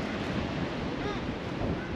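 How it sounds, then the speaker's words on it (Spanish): Wind gusts roar steadily across the microphone on a beach at Seaside Heights, New Jersey, a constant low rumble mixed with surf, with no speech. "sí, está ventoso,"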